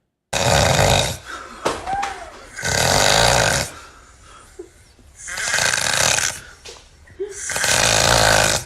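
A man snores loudly in long, rasping, throaty bursts that repeat four times. Near-silent pauses, where he chokes and stops breathing, separate the snores, and brief gulping catches of breath fall between them.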